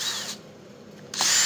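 A power drill bores through a broken 5/16 UNC stud on a Harley Dyna Springer chopper, whining steadily, dipping briefly and then surging back loud and close.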